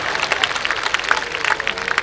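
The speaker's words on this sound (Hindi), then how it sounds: "ताली बजाओ, सांस लेना है।" An audience at a Hindi comic poetry recital claps together in a dense, even patter of many hands with a few sharper claps standing out. Mid-distance and moderately loud, lasting about two seconds without voices.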